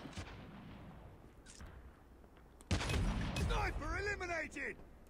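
Gunfire in the mobile shooter game COD Mobile, a sudden loud burst of shots and explosive booms after a quieter stretch, with someone talking over the game sounds.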